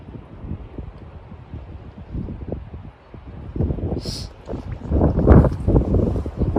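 Gusty wind buffets the microphone at a quiet inner harbor during a fishing trip in Uljin, rumbling in uneven bursts that swell louder toward the end, with faint rustling and no speech.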